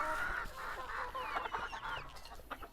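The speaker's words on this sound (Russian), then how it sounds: "Ну и вот мои куры" Naked-neck hens clucking close by in a farmyard, a busy overlapping run of calls with no talking.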